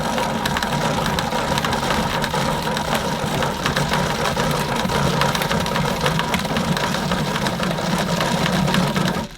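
A Numatic Henry HVN204 Next vacuum cleaner in lavender runs its motor in a steady, fairly loud whir with a rough, rattling texture that carries on evenly without pause.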